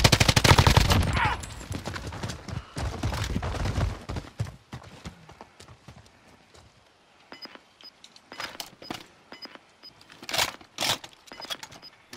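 Call of Duty gunfire rattles in sharp bursts, loud and dense at first, then thinning into scattered, fainter shots and short volleys.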